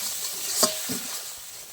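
Mustard, poppy seed and green chilli paste fries in hot oil for a vegetarian okra dish, a steady close sizzle with a couple of sharp spoon scrapes and knocks against the pan.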